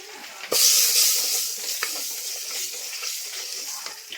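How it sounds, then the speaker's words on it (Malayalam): Coriander powder hitting hot oil with a sudden loud hissing sizzle that slowly fades, broken by a few sharp scraping stir strokes, close-up and with no talk. "മല്ലിപ്പൊടി ഒന്ന് ഇളക്കിയിട്ടാട്ടെ"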